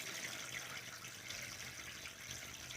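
Water pours steadily into a seed-starting tray indoors, a continuous faint splashing stream with no pauses and no voices.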